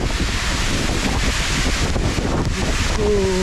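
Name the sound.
waterfall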